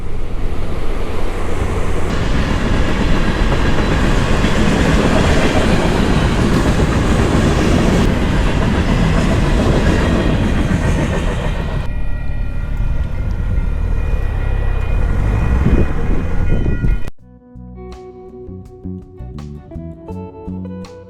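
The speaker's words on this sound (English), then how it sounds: "Here's a choo-choo train." A loud train rumbles past with steady rolling roar and wheel clatter for most of the clip, then cuts abruptly to a quieter, different scene.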